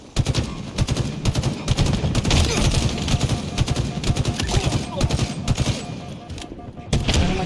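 Rapid automatic-weapon fire in Halo Infinite, dense bursts of shots rattling almost continuously and loud up front, with a brief pause near the end before firing resumes.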